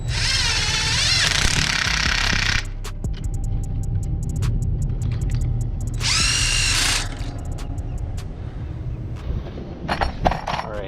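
Power drill driving fasteners while fitting new 3-in-1 air and electrical lines on a semi truck, two loud whining bursts with clicks and clatter of handling in between, close up.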